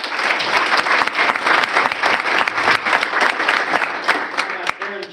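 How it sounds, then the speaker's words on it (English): Audience applause for a retiring employee at a service-recognition ceremony, honoring 25 years of dedicated service; steady, dense clapping from a sizable crowd, loud and sustained throughout, with no talking over it. "Let's give her a round of applause."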